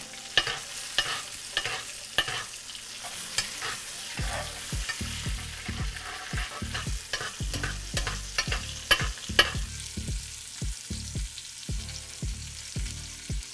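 Ribeye steak frying in a pan with butter, garlic, rosemary and thyme, a steady close sizzle broken by frequent scraping and stirring clicks, no talking.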